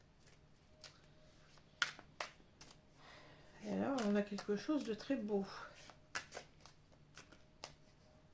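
Symbolon oracle cards are handled at close range: scattered clicks and taps, then a crisp shuffling riffle in the middle. Someone speaks French softly over the card sounds.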